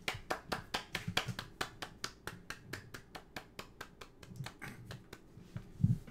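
A single person claps in a quick, steady series of sharp, close hand claps for about five seconds, then stops, with a faint murmur in the background.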